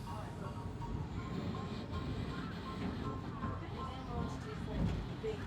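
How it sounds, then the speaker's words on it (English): Steady low rumble of a tram car in motion at Disney's Lookout Cay, with a rattling, clattering ride and faint background chatter throughout. "Taking the tram car back."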